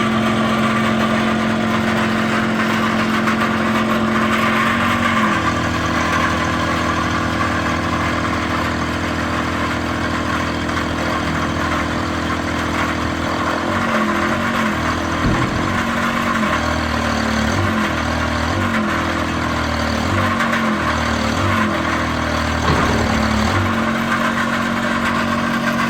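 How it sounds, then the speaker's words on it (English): A Kubota pony motor drones steadily on a forestry bucket truck, loud and close for the whole stretch, with its pitch shifting and pulsing midway as the load changes. "Right now we're running off the Kubota pony motor."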